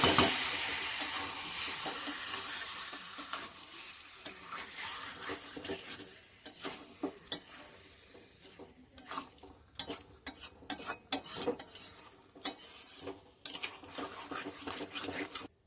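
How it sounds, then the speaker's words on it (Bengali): Raw fish is stir-fried with spice paste in a pan: a loud sizzle at the start fades to a quieter fry, broken by repeated sharp scrapes and clinks of a utensil against the pan. "এবারে মাছের সঙ্গে মশলাটা ভালো করে একটু কষিয়ে নেব।"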